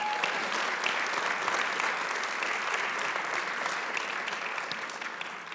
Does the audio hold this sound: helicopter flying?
no